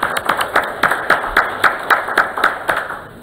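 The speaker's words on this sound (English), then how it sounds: "And a round of applause for them." A short burst of applause at a school district board meeting, a modest group clapping in a steady run of sharp hand claps that gradually thin out toward the end.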